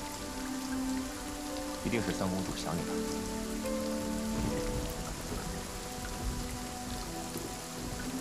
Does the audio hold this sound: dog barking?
no